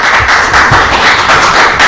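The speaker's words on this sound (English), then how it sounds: "Please hold your applause." Applause at a city council meeting, a steady wash of many hands clapping in a room, loud and close, continuing throughout without talk.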